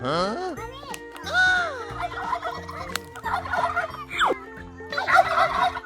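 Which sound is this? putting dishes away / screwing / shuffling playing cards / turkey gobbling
turkey gobbling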